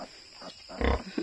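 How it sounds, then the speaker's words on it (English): Piglet in a sow's litter on a farm, a few short soft grunts with a louder one near the end, close by and alone. "The baby pig, you want to touch the baby pig?"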